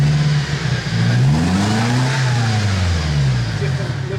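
An off-road 4x4 vehicle engine revs up and down in steady swells, its low drone rising and falling in pitch over several seconds, close and loud.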